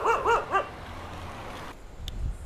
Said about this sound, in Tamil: நம்மளை சுற்றி நாயெல்லாம் அட்டாக் பண்ணிருச்சு